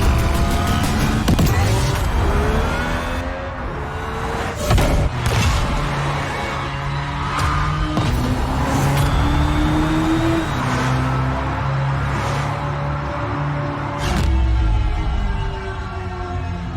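A Hyundai Ioniq 6 N electric car drives with its simulated high-performance engine roar, a loud, continuous synthetic growl whose pitch climbs and falls through shifts, with occasional thumps along the way.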